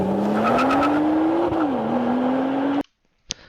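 A Nissan GT-R accelerates hard from a standstill, its engine note climbing loud and steady for nearly three seconds before cutting off abruptly, followed by near silence and one brief faint sound.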